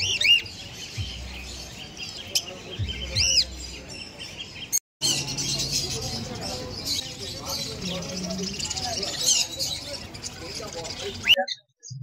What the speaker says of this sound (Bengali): মার্কেটে গিয়ে কী কী পাখি আছে সেই সব পাখিগুলোকে তোমাদেরকে দেখাবো